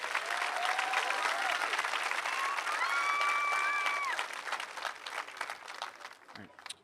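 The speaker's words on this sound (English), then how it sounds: "Can we get one more round of applause for our students?" A high school commencement crowd applauds its graduating students with dense, sustained clapping, cheers and whistles rising over it, then the applause tapers and fades near the end.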